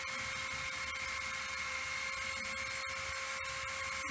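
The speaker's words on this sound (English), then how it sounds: "Dremel." A Dremel rotary tool piercing wood runs with a steady high-pitched whine and a constant buzzing hum, close and continuous throughout.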